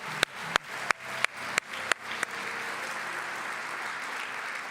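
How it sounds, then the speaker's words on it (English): An awards ceremony audience applauds students. A few sharp, near claps ring out first, then many hands join in a continuous moderate applause that carries on steadily to the end. "Let's give the students another round of applause."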